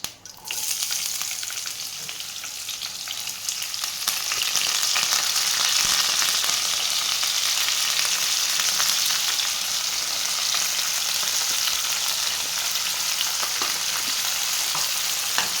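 Onions frying in oil in a pan for tomato rice, a steady loud sizzle that holds evenly throughout with faint stirring scrapes, no voices.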